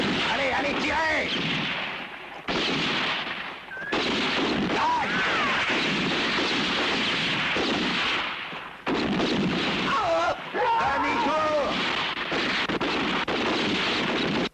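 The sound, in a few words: gunfire in a western film battle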